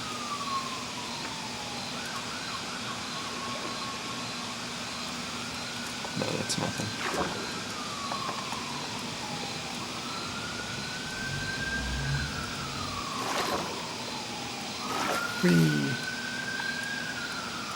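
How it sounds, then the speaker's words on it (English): Police sirens wail in the distance, several slow rising and falling sweeps repeating, faint under brief bits of nearby talk and a sharp exclamation. "You guys can hear the police sirens."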